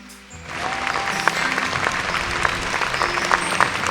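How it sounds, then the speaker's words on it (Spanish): A standing church congregation applauds, the clapping swelling up after a quiet start into a full, sustained patter with a few sharper individual claps cutting through. "vamos a darle un aplauso al Señor en esta"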